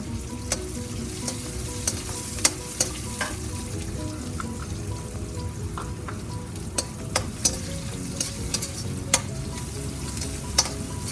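Garlic and ginger frying in oil for beef pickle, a steady crackling sizzle with scattered sharp clicks as a spoon stirs the pan, close and moderately loud, without speech.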